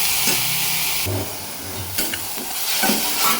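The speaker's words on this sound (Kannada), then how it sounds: "ಇವೆಲ್ಲದನ್ನು 1 ನಿಮಿಷ ಚೆನ್ನಾಗಿ ಬಾಡಿಸ್ಕೋಬೇಕು, ಅದು ಫ್ರೈ ಮಾಡ್ಕೋಬೇಕು." Onion and coriander fry in a pan for fenugreek chapathi dough, with a close sizzle broken by several scraping, clattering strokes of stirring.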